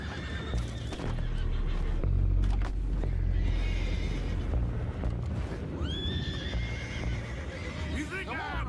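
Horses neigh and whinny in Red Dead Redemption 2 gameplay, with high rising whinnies late in the scene over hoofbeats, loud continuous rumble and voices talking throughout.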